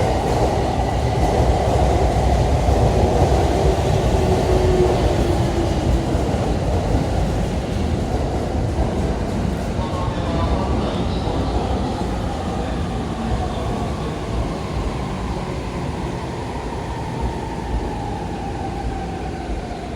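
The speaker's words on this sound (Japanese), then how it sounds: "6番線電車が到着しておりますので、黄色い線の内側までお下がりください" Tokaido Line train arriving at Yokohama Station platform 6, a steady rumbling roll with wheel clatter and squealing brakes that gradually eases as it slows.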